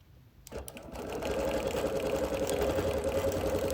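A sewing machine quilts concentric squares in elbow quilting on a busy print, starting after a brief quiet moment and settling into a steady, close, continuous whir.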